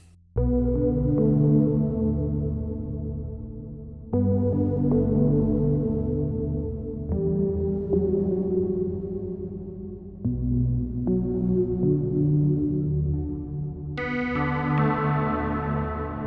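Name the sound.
synthesizer patch with low harmonic reverb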